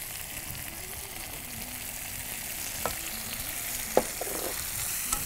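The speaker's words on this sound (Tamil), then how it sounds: "இப்போது இந்த வெங்காயம் வந்து நல்லா வதங்கிடுச்சு." Onions fry in a pan with a steady, bright sizzle, broken by a few soft clicks and scrapes of stirring, close and continuous without speech.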